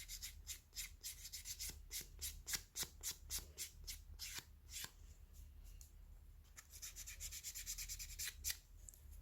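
Sandpaper rubs the leather edge of a small handmade keyring in quick, even back-and-forth strokes, close and soft, with brief pauses between passes.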